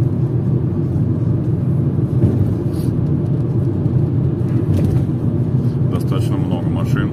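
Dense traffic on the Moscow ring road, heard from inside a moving car as a steady low rumble of passing vehicles, continuous and moderately loud with no talk.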